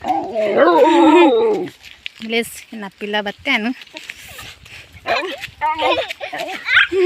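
Dog barks and yips come in short bursts amid talking voices in Tulu, the barks close and fairly loud between stretches of speech.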